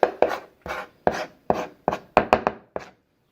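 A knife finely mincing garlic on a cutting board gives about ten crisp, close chops in an uneven rhythm, each sharp tap followed by a short decay, with no voices.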